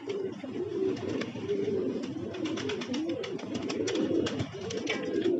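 Kasni pigeons coo close by in soft, repeated throaty rolls, overlapping one another in a continuous murmur.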